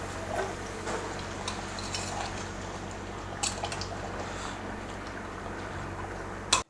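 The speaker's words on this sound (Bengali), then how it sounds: "চলেন এটা এইটাকে হালকা নাড়াচাড়া দিই।" Matka beef stirred in a pot over a gas stove, giving soft scraping and wet clinks over a steady low burner hum, with a sharp clatter right at the end.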